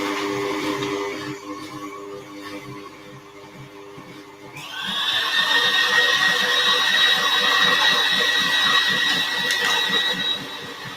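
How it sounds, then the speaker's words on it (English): Orange pumpkin cake batter whisked for a Halloween pinata cake: a low rattling motor sound is joined midway by a louder, steady whine with rapid rhythmic churning that holds to the end. "Let's just give it a final whisk through."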